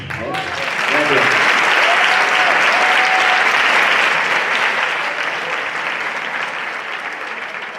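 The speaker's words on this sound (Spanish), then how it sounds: "no tienen el aplauso que merecen. Las intérpretes de lengua de signos" A conference audience applauds the sign language interpreters, a loud sustained wave of clapping that swells within a second and slowly tapers, with a voice briefly heard at the start.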